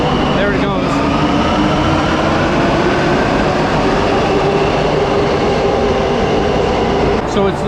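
A Warsaw metro train pulls out of the station with a loud, steady rumble and hum of wheels on rails nearby, with a few light clicks near the start and end, no talk.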